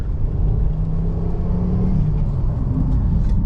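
A Ford S-Max 2.5T engine roars steadily inside the cabin as it accelerates through the gears, its low rumble holding strong and rising slightly in pitch as it pulls.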